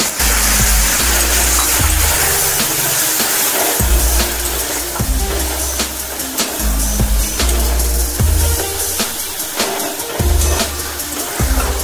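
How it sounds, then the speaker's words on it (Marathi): Water is poured into a pan of dry spices frying with soft tomato and coriander for a cabbage bhaji, giving a loud, close, continuous gushing hiss with scattered clatter. "मसाले करपून येत म्हणून थोडंसं पाणी"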